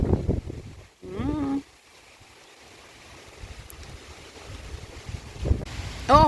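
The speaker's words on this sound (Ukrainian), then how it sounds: "Такий вітер піднімається." Steady rushing wind from a rising storm in the Netherlands buffets the microphone for several seconds, a low continuous roar, with brief speech at the start and end.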